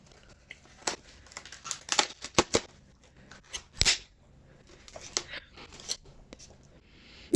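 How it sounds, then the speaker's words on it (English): A Christmas cracker is pulled apart, with crinkling and tearing paper and several sharp snapping cracks scattered through the clip, fairly close and otherwise quiet. "you heard it bang then as it was pulled"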